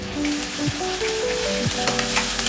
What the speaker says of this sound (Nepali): प्याज र लसुनलाई सँगै भुट्ने।